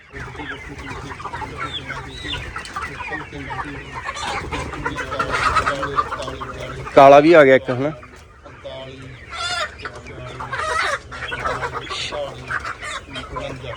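Desi poultry chicks chirp and cluck in a busy chorus as hatchery trays are opened on a farm, with one sharper, louder burst midway, while someone talks over them.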